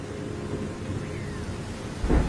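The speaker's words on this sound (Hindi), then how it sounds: "बाहर बहुत तेज बारिश हो रही है।" Heavy rain falls in an animated forest story, a steady broadband wash with a low rumble building near the end, like distant thunder.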